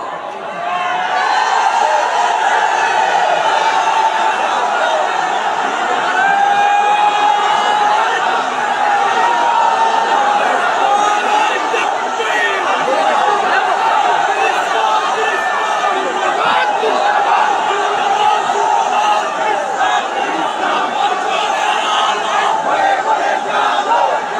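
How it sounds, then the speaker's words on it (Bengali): A huge crowd at an outdoor religious gathering on a college field in Sylhet raises loud, sustained chanted slogans, a dense wall of many voices that continues without a break for the whole stretch. "স্লোগান দিতে মন চাচ্ছে। ওকে, স্লোগান ইজ অন।"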